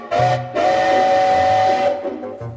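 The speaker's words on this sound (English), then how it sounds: "There was a train there." A train whistle sound effect blows one long, loud, steady steam-whistle tone with a hissing edge, briefly broken at the start before sounding continuously and fading out.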